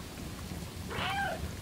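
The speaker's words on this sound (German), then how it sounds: "Die Katze, die miaut." A single short cat meow rises from the game Stray, played in VR, near the middle of the clip over a faint rain-like background hiss.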